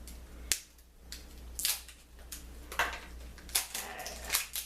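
Scissors cut through stiff toy packaging in a series of sharp, crisp snips and crackles at irregular intervals, close and fairly quiet over a low steady hum, with no speech.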